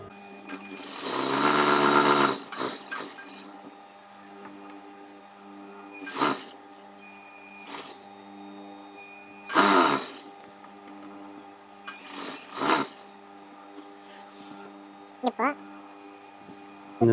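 A sewing machine stitches the waist piece of a pant in several short bursts, with a long run near the start and brief runs after it. A person talks steadily between the bursts.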